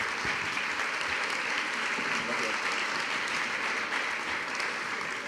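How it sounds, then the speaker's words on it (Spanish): Audience applause at an Erasmus+ school education conference in Madrid, steady and sustained clapping from a large crowd throughout, filling the room evenly for about five seconds. "Un aplauso para todos ellos, por favor."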